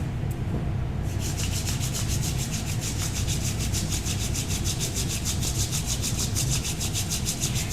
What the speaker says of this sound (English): begin rubbing the soles of your feet together and the palms of your hands together vigorously